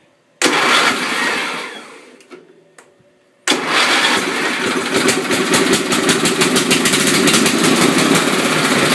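Wheel Horse 211-5 garden tractor engine cranks briefly, then a pause, then fires and settles into a loud, steady, rapid idling rumble close by.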